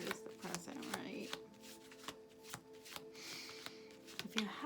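Tarot cards shuffled and drawn during a horseshoe-spread reading, giving a series of soft, crisp card flicks and slaps at close range, with brief quiet gaps between bursts.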